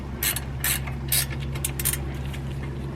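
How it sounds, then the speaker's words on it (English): Ratchet wrench tightening a brake caliper bolt on a Lexus RX330, several quick close clicking bursts in an irregular rhythm over a low steady hum. "I will fire my wrench going the right direction."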